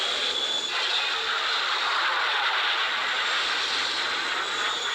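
The Airwolf helicopter's turbine engines roar at full power in a dense, steady, loud whine and rush that holds unbroken throughout, with no voices.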